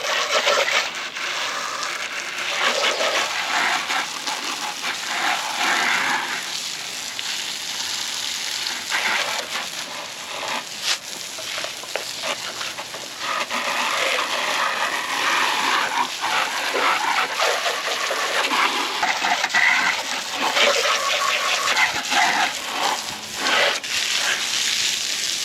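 Water spraying over a garden tiller to rinse off cleaner, a steady loud hiss and splatter that runs continuously with slight surges and no voices.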